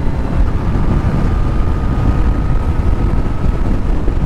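Heavy wind buffets the microphone of a rider on a motorcycle, a dense, steady low roar with a faint engine hum running through it from start to finish.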